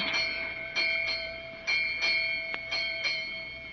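A ship's bell strikes eight bells in a series of sharp strikes grouped in pairs, each ringing out with a sustained metallic tone over a steady hum.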